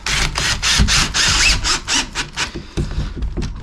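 A power drill drives screws straight through wallboard on a shower wall, giving a series of loud, close bursts of grinding whir with brief pauses between them and no talking.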